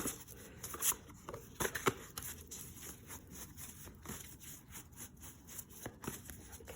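A deck of cards is shuffled repeatedly, with quick riffling bursts and soft papery flutters at close range, no talking.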